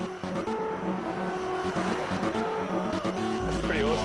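A Tesla electric car driven hard, its tires squealing through fast turns, with a steady close rolling roar and rising pitch near the end; no one speaks.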